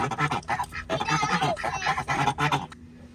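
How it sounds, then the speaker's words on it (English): Live geese, caught and held in the back of a truck, honk loudly and repeatedly in a rapid, overlapping chorus of close, harsh calls, with no talking. "we got 2 geese and a duck"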